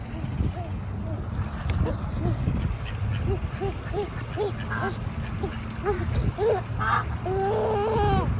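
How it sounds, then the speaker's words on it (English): A duck quacks repeatedly in short, evenly spaced calls at moderate distance outdoors, over steady low background rumble, with people talking nearby. "What's a duck say? Quack, quack."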